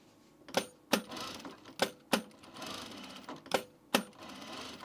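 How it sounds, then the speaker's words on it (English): A Juki home sewing machine top-stitches men's pants in short bursts: sharp mechanical clacks about every half second, each trailing off into a whir, close and clear with no talk. "Are you sewing? You're sewing."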